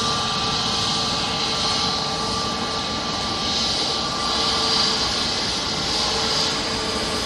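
Jet2 airliner at Manchester Airport, a steady broadband jet engine roar with a whining tone, continuous and fairly loud throughout, rising and falling slightly, with no talk.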